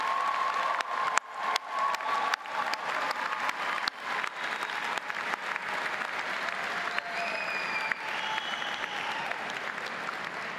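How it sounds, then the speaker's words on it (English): An audience at a Drexel University School of Education commencement applauds the graduates with continuous clapping and a few scattered cheers, steady and fairly full throughout. "I would like to lead one more round of applause for all our graduates."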